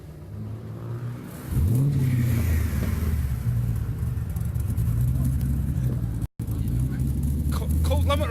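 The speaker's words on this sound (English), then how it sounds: "he's going to now fire it up and then smash it instantly off the cold limiter" A Chevy V8 fires up and revs hard straight off the cold limiter, a loud rumbling roar holding steady near by with a brief cut, while people talk over it.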